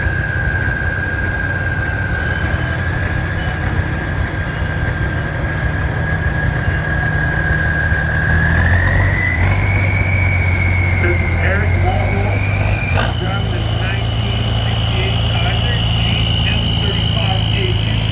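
A 1953 Farmall Super M tractor running in a parade, its steady low engine drone holding throughout, with a sustained tone that rises in pitch twice, and someone speaking over it on a loudspeaker.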